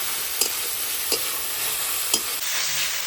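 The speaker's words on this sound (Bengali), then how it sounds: "এখন দিয়ে দিচ্ছি গরম মশলা দিয়ে। এবার ভালোভাবে মিক্স করে নেব।" Garam masala being stirred into food frying in a pan, a steady sizzle broken by three sharp spoon scrapes against the pan, close and moderately loud.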